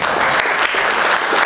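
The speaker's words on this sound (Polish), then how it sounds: "Wielkie brawa." An audience at a regional waste-management assembly in Wołów applauds a speaker coming to the stage, with a loud, dense burst of clapping filling the whole moment.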